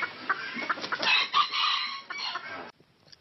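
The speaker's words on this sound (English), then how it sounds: "She rears different kinds of chicken" Ornamental poultry on a farm in Kenya: several chickens cluck busily together while a rooster crows through the middle, moderately close, the flock noise stopping abruptly near the end.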